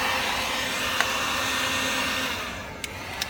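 An HPI 4.6 nitro RC engine runs during break-in with a steady, high-pitched screaming whine held at constant revs, close and continuous, with a few small clicks near the end.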